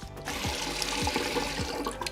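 Tap water runs steadily into a bathroom sink and splashes over onto the counter, a continuous close rushing spatter with no voices.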